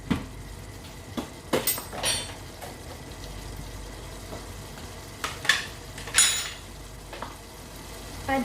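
Mango pickle gently bubbles and sizzles in a pan, punctuated by a few sharp scrapes and clinks of a spoon stirring, close by and fairly quiet.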